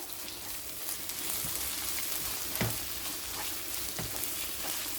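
Tomato puree sautés in a pan for a South Indian chicken curry, a steady close sizzle with occasional clinks and scrapes of stirring.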